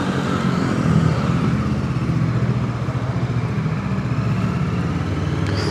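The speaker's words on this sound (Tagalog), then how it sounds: "let's take out the FKM Express 500 SC for a spin" FKM Express 500 SC motorcycle engine running steadily and loud, a continuous low mechanical drone with a slight rise and fall as it is ridden, no voices.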